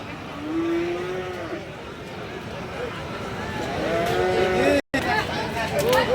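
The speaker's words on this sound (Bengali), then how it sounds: "3টা গরু সুন্দর আছে" A cow lets out a low, drawn-out moo early on while people talk nearby amid the steady murmur of an outdoor cattle market crowd near the border.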